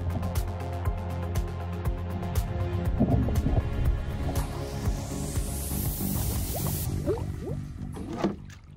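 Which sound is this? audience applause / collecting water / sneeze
collecting water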